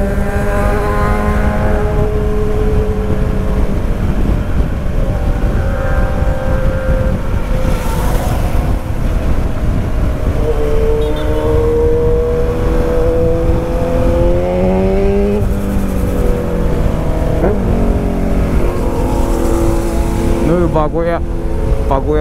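BMW 1200 motorcycle engine revving on a ride through Rio de Janeiro, loud and close throughout, with rising and falling engine pitch as it accelerates and eases off, while people talk over it.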